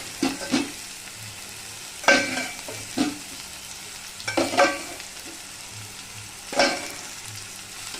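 Chicken and potatoes sizzle gently in an oiled pan over low flame, a quiet steady fry punctuated by several sharp scrapes and stirs of a spatula at irregular intervals.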